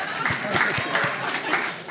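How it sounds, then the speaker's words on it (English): Audience at an investor evening breaks into a brief burst of dense, steady clapping from a crowd, with speech mixed in over it. "Big round of applause there, ladies and gentlemen"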